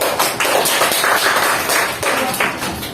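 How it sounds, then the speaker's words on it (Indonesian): Classroom applause for a group presentation during a fiqh lesson, a dense steady clatter of many hands clapping together for about three seconds, loud and continuous with no talk over it. "Mari kita kasihkan aplaus untuk kelompok 3."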